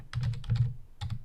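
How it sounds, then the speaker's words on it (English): Typing on a computer keyboard, a quick close burst of clacking keystrokes in two short runs separated by a brief pause, with no voices. "I can go ahead and press the Enter key after a comma and just keep typing"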